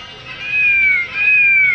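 Two drawn-out cat meows in a row, each a clear, rising-and-falling tonal cry, fairly loud and close with no voices around them.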